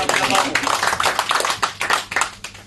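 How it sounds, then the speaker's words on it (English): A burst of clapping from a small crowd, brisk and fairly close, tapering into scattered claps toward the end. "Give her a round of applause."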